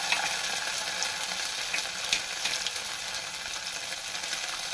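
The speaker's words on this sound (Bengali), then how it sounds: "গোটা মশলাগুলো একটু ভেজে নিয়েছি এখন আমি এর ভিতরে দিয়ে দেবো জিরা এবং ধনিয়া একসাথে বেটে নিয়েছি" Whole spices fry in hot oil as a ground cumin and coriander paste goes in for a potato dum. A loud, steady, close sizzle carries on throughout, with faint stirring clicks and no talking.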